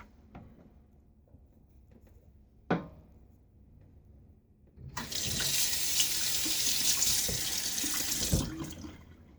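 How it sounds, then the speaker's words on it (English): Hands being washed under a running tap: a few quiet clicks and one knock, then a steady, loud rush of water that runs for several seconds before easing, close by with no speech. "I'm having to wash my hands a little bit so I can push the pause button"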